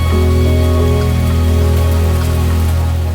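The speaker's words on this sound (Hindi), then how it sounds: "पानी की बूंदें जब धरा को छूने को मचल उठती हैं," Raindrops fall on the ground at Talakaveri in the Brahmagiri hills, source of the Kaveri river. The patter is steady and dense, with a low continuous hum running underneath.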